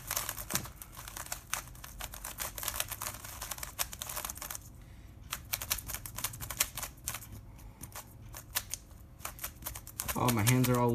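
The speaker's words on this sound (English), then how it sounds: "let's give it a couple of first turns. Of course it turns well, it's a GAN." A new GAN Max 356 M speed cube being turned: rapid, dense clicking and clacking of layers for about ten seconds, close and steady, with a short pause midway and a voice entering at the end.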